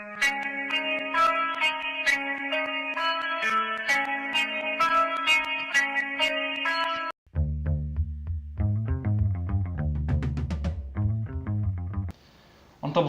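Sampled guitar and bass line with slight pitch adjustments, looped as a backing for a school band battle track, loud and steady, shifting midway into a deeper bass-heavy riff before a brief gap and noisy rise.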